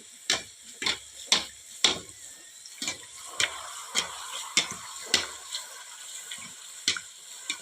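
Biscuit roti frying in hot oil while oil is splashed over it, producing a steady close sizzle broken by rhythmic splashing bursts about every half second, with no talking.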